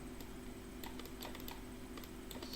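Soft keyboard typing as an answer is entered: a quiet run of light, uneven key clicks over a low background hum, with no voices.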